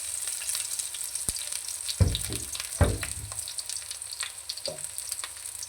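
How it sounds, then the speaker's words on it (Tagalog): Garlic and eggplant hit hot oil in a pan, giving a steady sizzle with a few sharp crackling bursts as the pieces drop in, close and moderately loud. "Nilalagay na natin yung ating bawang. Nilalagay na rin natin ang ating talong."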